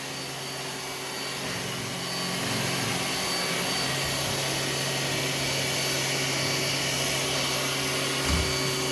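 A Roomba s9 robot vacuum's steady whirring motor hums continuously at close range, with a faint brush-like hiss and a small bump near the end.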